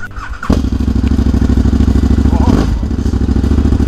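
A motorcycle engine on a Kola Peninsula trip bursts into life after a brief clatter and keeps up a loud, close, pulsing chug, with voices heard over it.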